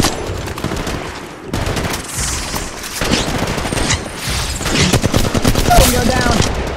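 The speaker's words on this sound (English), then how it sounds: "He's firing." Rapid automatic gunfire from the Apex Legends video game, played on an iPad, with dense bursts of shots and booms running continuously throughout at loud, near level, with game sound effects mixed in.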